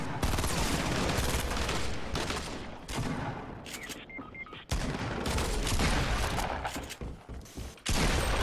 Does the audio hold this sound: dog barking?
no